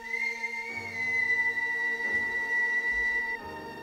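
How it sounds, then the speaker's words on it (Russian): A long, loud, sustained whistle made with four fingers in the mouth, one steady piercing tone held for several seconds with slight breaks in the middle. "Дева-жених, заложив в рот четыре пальца, протяжно свистнула."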